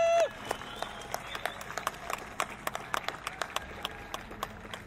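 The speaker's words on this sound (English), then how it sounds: "Let's give them a big round of applause." Applause from the audience at a Hollywood Walk of Fame ceremony, individual claps scattered and distinct over a moderate crowd, fading in density toward the end.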